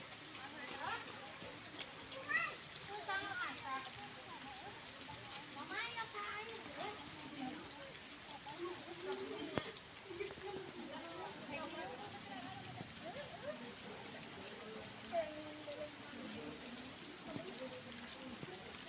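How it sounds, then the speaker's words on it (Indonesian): Rain falls steadily during an outdoor journey, a soft continuous patter in the background throughout, with people talking over it. "Lagi ini hujan ya."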